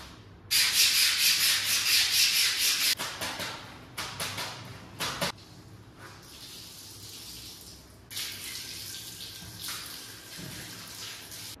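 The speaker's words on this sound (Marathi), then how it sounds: "शूज पण धुवून झाले आणि कपडे पण धुवून झाले." Shoes and clothes are scrubbed by hand with water: loud rhythmic brushing strokes in bursts, then quieter rubbing and sloshing with pauses between.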